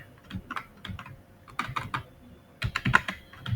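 Code being typed on a computer keyboard, with quick irregular bursts of close, crisp key clicks separated by short pauses, fairly quiet and with no voice over them.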